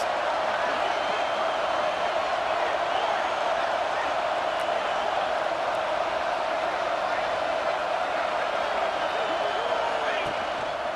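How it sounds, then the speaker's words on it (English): A stadium crowd in the EA Sports College Football 26 video game roars steadily throughout as fans get behind the defense in the red zone, a dense continuous wash of noise under commentary. "this crowd getting behind its defense"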